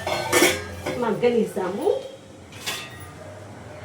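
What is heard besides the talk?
lid being put on a cooking pan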